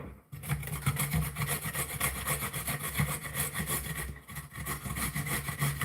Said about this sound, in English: I'm just going to keep grating carrots for my shepherd's pie.